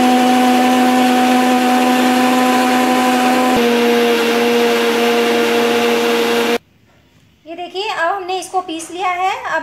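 An electric mixer grinder whirs steadily as it blends cooled tomato soup in its jar, loud and continuous, shifting pitch midway before cutting off abruptly into quiet and then some clattering sounds.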